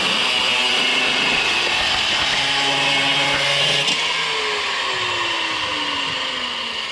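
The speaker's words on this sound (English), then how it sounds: "This cutoff wheel is a monster." Cutoff wheel grinder cutting into a Toyota 2JZ engine, a loud steady high-pitched whine with grinding rasp that holds for several seconds, then pitch sags as the wheel bites and slows.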